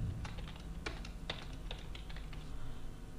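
Fast typing on a computer keyboard while entering supplier data into an application, a dense run of crisp clicks and key taps with a few louder strikes, close and steady with no voices.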